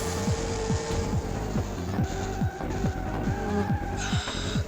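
In the Le Mans video game, race car tyres skid and squeal under braking into a corner over a loud, continuous engine drone, with repeated squeal bursts.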